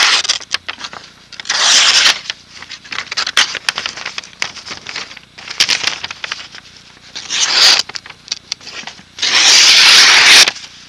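A Ka-Bar Snody Snake Charmer knife slicing through paper: several close, rasping strokes arrive in irregular bursts with quieter rustling between them, and no talk.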